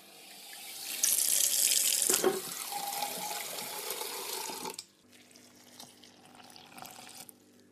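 Water from a tap pours in a strong, steady stream for the 300 millilitres of water measured for a Sukrin seeded bread mix, rising loud for a few seconds, then cutting off into quiet room tone with faint handling.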